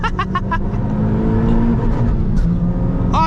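A Toyota Yaris GRMN accelerates hard, heard from inside the car: the engine note climbs and roars loudly and continuously with rising revs, and no one speaks.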